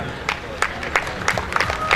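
Audience clapping at an award ceremony for the Kumpala Premier League 2019, with scattered sharp claps and crowd murmur filling the air, fairly close and steady over about two seconds.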